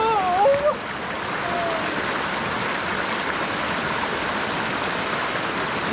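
A natural stream near Sodo, Ethiopia, rushes close by as a steady, full wash of flowing water, with a brief high animal-like squeak at the very start.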